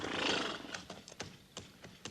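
A horse lets out a loud whinny, followed by a few spaced clip-clop hoofbeats on rocky ground in an old Western radio drama, with no talk over it.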